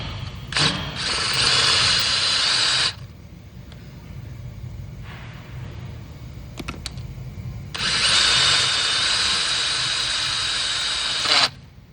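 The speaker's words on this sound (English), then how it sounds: "Drilling 3/16 now." Power drill with a 3/16 bit boring into a broken exhaust stud, two loud sustained bursts of high whining drilling, the first about two seconds and the second near four seconds, with a quieter gap and brief clicks between.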